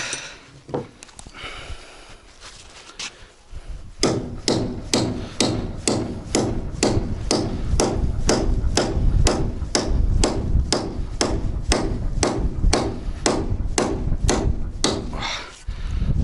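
Heavy hammer blows driving big nails into a wooden garage floor, a steady run of loud, close, evenly spaced thuds after a few irregular knocks at the start.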